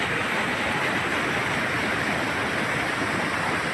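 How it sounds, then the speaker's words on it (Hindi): Water flows down over rocks in a loud, continuous rushing roar that stays steady and close throughout, with no voices. "मैंने पानी उतर रहा अभी गिर नहीं रहा है।"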